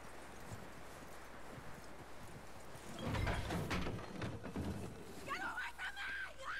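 Horse hooves clip-clop in Red Dead Redemption 2, a steady close trot that grows louder midway through, set against background game ambience and a brief shout.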